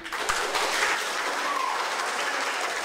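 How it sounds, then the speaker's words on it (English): Applause from families in a courtroom after a pretrial detention ruling, a fairly quiet, steady patter of clapping heard alone. "the courtroom erupted with applause from the families"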